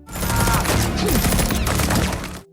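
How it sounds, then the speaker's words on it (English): A rapid burst of gunfire crackles continuously for a couple of seconds, loud and dense, with no voices, as masked men attack. "gunfire erupted as a group of masked men attacked."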